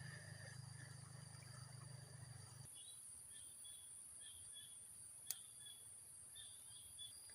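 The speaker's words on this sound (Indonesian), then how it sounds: "itu dengar suaranya teman-teman, lebah" A bee buzzes near a cardamom plant outdoors with a low, steady droning hum for a few seconds before it fades away, leaving faint high insect chirring in a quiet background.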